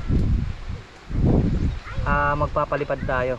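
Gusty wind buffeting the microphone at Tondol Beach in Anda, Pangasinan, loud rumbling bursts that rise and fall, then someone talks over the wind for the final second and a half.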